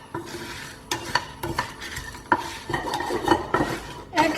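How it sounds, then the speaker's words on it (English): Cumin and coriander seeds dry roast in a pan, stirred with a utensil that scrapes and clinks in irregular bursts over a light sizzle. "We're going to dry roast this till our cumin seeds and coriander seeds change"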